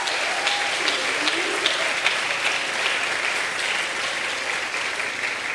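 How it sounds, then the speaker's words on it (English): Steady applause and clapping from an audience at a medical sciences faculty pledge ceremony, loud and sustained throughout without a break. "Let's give it up again. Extra special clap."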